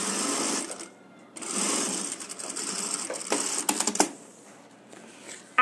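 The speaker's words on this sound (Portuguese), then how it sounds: "Vou mandar ele lá para trás para poder fazer a costurinha de acabamento daqui" A sewing machine stitches a finishing seam on a wallet in rapid mechanical bursts, stopping briefly between runs and then starting again, close and fairly quiet.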